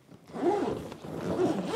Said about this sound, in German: das Öffnen und Schließen mit dem Reißverschluss, das gelingt halt wirklich super schnell